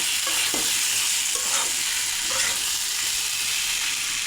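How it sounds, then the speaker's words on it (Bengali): Fried prawns tipped into a pan and stirred, with a steady close sizzle and scraping stir strokes through the first few seconds over continuous frying hiss, for a Bengali potol and prawn curry. "এবার চিংড়ি মাছ ভাজা দিয়ে দেবো।"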